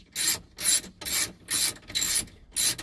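A hand ratchet clicks back and forth while removing bottom bolts during a car stereo install, making six steady, close bursts of rasping pawl clicks.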